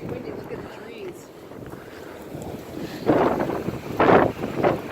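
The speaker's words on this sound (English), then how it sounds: "It's windy." Strong wind outdoors on a sunny day among trees, buffeting the microphone in rough gusts that grow louder toward the end, with people talking under the rushing noise.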